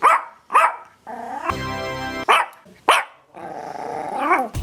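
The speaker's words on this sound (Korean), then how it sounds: "이 소리 누구일까요? 정답! 사번의 강아지 자바두!" A dog barks several times in short, sharp bursts, with a low growl and a steady tonal buzz between barks, close and loud.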